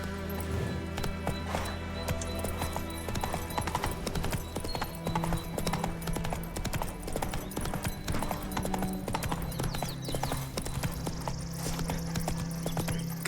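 Geralt's horse Roach clip-clopping along in a steady trot in The Witcher 3, hoofbeats loud and continuous over game music with an occasional snort or whinny.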